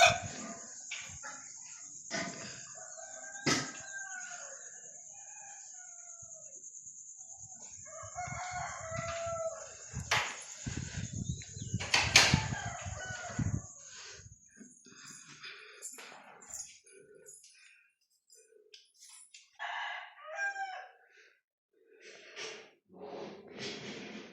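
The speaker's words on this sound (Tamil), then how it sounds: "இப்போதான் கோழி கூவுறாங்க" A rooster crows several times in a rural Tamil village setting, loud, near calls with rising and falling warbles, mixed with other fowl sounds, a dog, brief snorts and scattered household noises in a quiet background.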